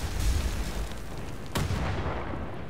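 A grenade blows up in the shooter Wolfenstein: The New Order, a low rumbling boom over continuous game noise, followed by a sharp second burst partway through.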